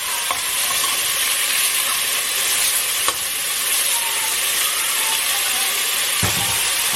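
Stew meat seared in batches in a hot pan: a loud, steady sizzle runs throughout, with a few brief sharp clicks or scrapes as pieces are flipped, close and without talking.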